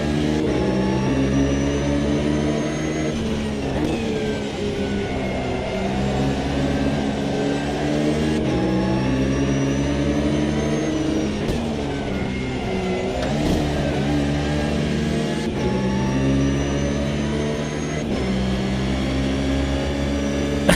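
Porsche DTM race car engine in the Automobilista 2 racing sim, a loud, steady high-revving drone with stacked harmonics that rise and drop sharply at each gear change, running continuously without talk.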